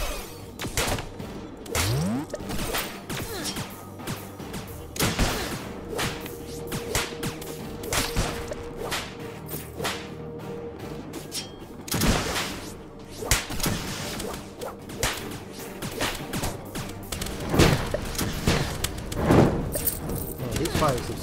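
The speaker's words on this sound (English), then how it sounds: "Serious grenades." Repeated sharp grenade blasts and thwacks in Starbound combat, irregular bursts scattered across the stretch amid ongoing game sounds, with a voice talking at times.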